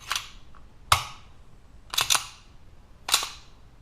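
A Springfield 9mm 1911 pistol's slide cycled by hand to feed rounds, giving four sharp metallic racking clacks spaced about a second apart, close and crisp against a quiet background.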